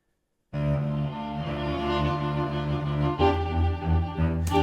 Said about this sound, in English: I panned the violas to the left, the cello to the right, so together they sound like this